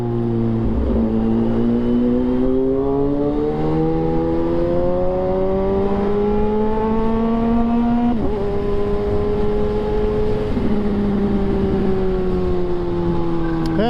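A naked motorcycle engine drones steadily while riding, its pitch climbing and dropping through gear changes, with heavy wind rush throughout and a rider's voice faintly underneath.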